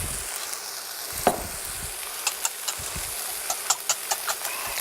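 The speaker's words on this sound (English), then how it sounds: "We'll just whisk this up." Eggs and milk whisked in a bowl for a sausage quiche, with a steady low hiss and a run of light, quick clinks and taps that pick up in the second half.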